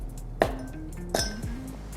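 Ice cubes dropped into a glass with fresh mint leaves: two or three bright, close clinks with ringing glass tones, separated by short pauses.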